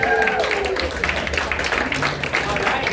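An audience at a community coalition meeting applauds the host forum, a burst of clapping that runs throughout, with a voice carrying over it at the start.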